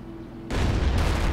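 A World of Tanks tank cannon fires once with a sudden loud boom, followed by a sustained roaring rumble that fills the rest of the moment.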